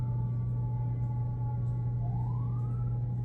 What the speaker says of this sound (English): Sounds like there's a fire truck or ambulance on the way there.